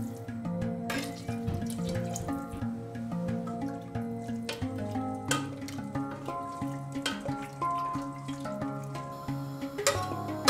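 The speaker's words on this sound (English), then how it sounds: "add plenty of water." Plenty of water pours into a pressure cooker holding meat seasoned with salt and garlic for Turkish tantuni, a steady running splash with clinking of the pot throughout, close and fairly loud, with no talking.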